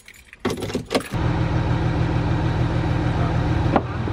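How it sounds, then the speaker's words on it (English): An Audi starts up and idles while its air suspension lifts in lift mode, with a few short rattles before the engine catches and then settles into a steady near hum, a faint knock near the end, no talk. "I'm starting the car and put it in lift mode for a few seconds."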